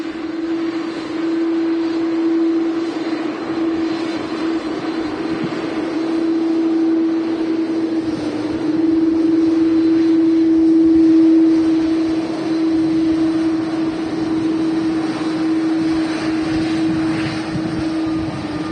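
Aer Lingus Airbus A330 jet taxiing out at Manchester Airport, a steady loud engine drone with a sustained tonal whine held throughout, heard from a distance without pause or voices.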